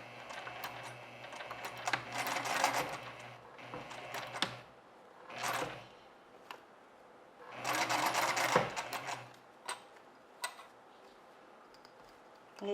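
A sewing machine stitches gathers at a 1 cm seam in fabric, whirring in two long loud bursts and a shorter run, separated by quiet gaps with small clicks and handling taps.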